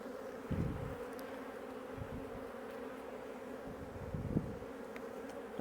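Honey bees buzz in a steady, dense drone from an open hive being worked in fall, a close continuous hum with a few soft bumps and knocks and no talking.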